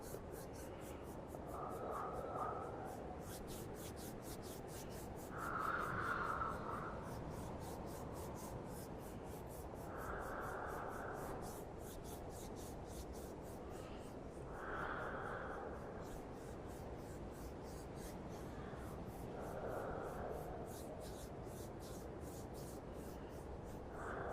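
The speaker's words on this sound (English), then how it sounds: "you hurry and you rub your hands together, blowing into them to warm them up" Palms rub briskly together in a cold snowy setting, a soft dry friction hiss swelling in several separate bursts roughly every five seconds over a faint steady background, close and gentle with no talking.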